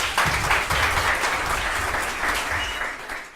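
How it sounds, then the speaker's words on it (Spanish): A church congregation breaks into sustained applause, dense and steady clapping filling the room for several seconds before tapering slightly at the end. "denle un aplauso al Mauri."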